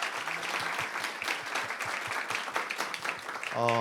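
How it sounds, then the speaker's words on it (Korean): An audience at a Korean Baptist church workplace-mission conference applauds a church elder after his testimony, a dense, fairly soft wash of clapping from many hands, ending in a short sustained tone. "다시 한번 박수 부탁드리겠습니다"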